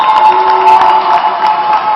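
A crowd cheers and shouts continuously at a Hong Kong vs Mexico Dodgeball World Championship match in Cancun, with the Mexican sideline rousing the spectators; the noise stays loud and dense throughout, with whoops rising above the din.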